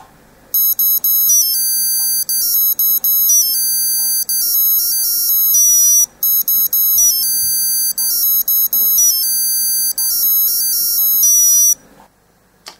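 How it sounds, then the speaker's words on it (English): Musical alarm number two on a 1999 Q&Q Superior MC10J301 wristwatch sounds as a piercing electronic tune of quick high beeped notes, playing loudly in repeated phrases with short pauses, then cutting off. "Then musical alarm number 2."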